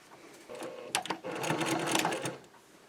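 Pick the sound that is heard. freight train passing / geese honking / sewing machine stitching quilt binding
sewing machine stitching quilt binding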